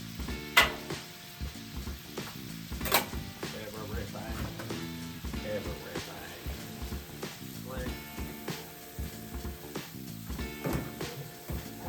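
Stir-fry vegetables sizzling in butter in a pan, a steady crackle with scraping and clatter of a utensil pushing them aside, background music and occasional voice present.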